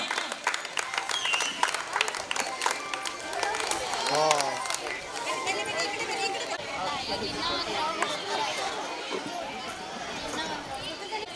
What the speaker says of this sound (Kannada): ಚಪ್ಪಾಳೆ ಹೊಡೆಯಿರಿ, ಅವ್ರಿಗೆ ಪ್ರೋತ್ಸಾಹ ನೀಡಬೇಕು.